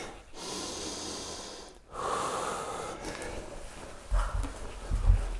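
A single deep breath drawn during a beginner handstand wall drill, a breathy rush of air lasting a few seconds, with low thumps of body movement near the end.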